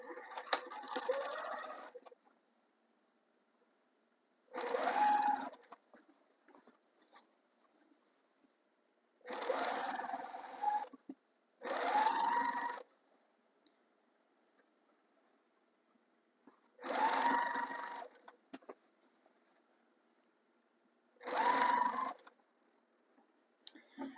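A sewing machine stitches piping trim onto a homemade Christmas stocking in six separate whirring bursts, each a second or two long, with quiet pauses between them.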